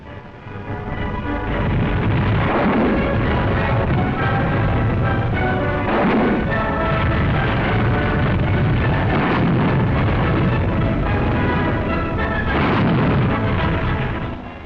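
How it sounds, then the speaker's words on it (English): A World War II artillery barrage on the Senio River front, German self-propelled guns firing alongside British 25-pounder guns. It is a dense, continuous rumble of overlapping booms, loud and sustained. "German self-propelled guns augment the barrage of our own 25-pounder."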